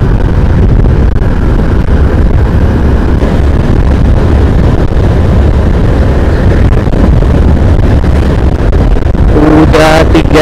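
Wind roars loud and constant across the microphone while riding a motorcycle on a long highway trip toward Palangkaraya, with broadband buffeting throughout and a brief tonal engine or horn burst near the end.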